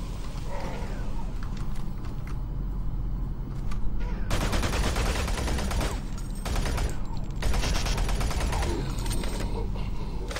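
Enemy gunfire hitting the player in Doom BFG Edition, continuous loud rapid shooting with bursts of heavier fire over busy game noise.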